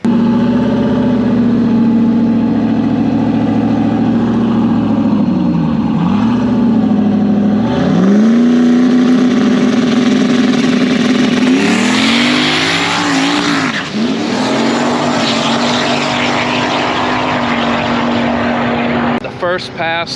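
A drag racing car revs hard, its engine pitch climbing, dipping and surging again over repeated pulls, with loud bursts of power and a sharp high roar near the middle of the run.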